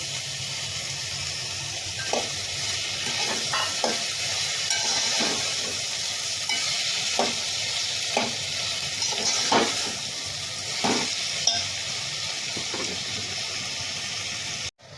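Green peas sautéing in oil in a pan for masala khichdi, a steady frying hiss throughout with repeated spoon scrapes and taps against the pan at irregular intervals, ending abruptly.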